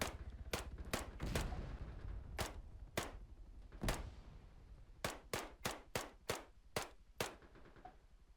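Rifle shots from an M4A1 SOPMOD in ARMA 3, sharp close cracks fired singly and in quick bursts, a dense cluster early on, then spaced single shots and a faster rhythmic string near the end, with no talking.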